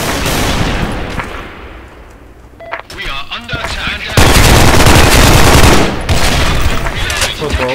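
Gunfire from a weapon in the Special Forces 2 video game: loud bursts of rapid automatic shots with a quieter gap and electronic beeps between, then sustained heavy firing; a voice speaks partway through.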